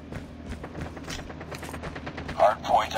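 Rapid bursts of automatic gunfire from the Holger 26 in a video game crackle in quick succession, with a couple of heavier blasts near the end and a voice talking underneath.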